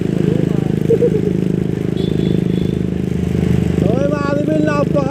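A Honda Click 125 version 3 scooter engine hums steadily while riding, a continuous low drone with wind and road noise, as a voice talks over it.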